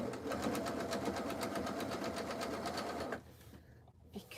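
A sewing machine runs steadily, stitching through scrap fabric while piecing a jelly roll rug, its rapid mechanical chatter loud and close for about three seconds before cutting off into near silence with a faint knock.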